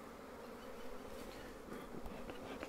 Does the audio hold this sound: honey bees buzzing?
yes